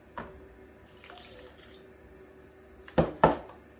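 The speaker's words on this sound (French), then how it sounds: "moi je vais rajouter un peu d'eau" Water poured into beignet dough in a home kitchen, a short splashy pour with a couple of louder gurgling bursts near the end, faint and close, following quiet mixing sounds.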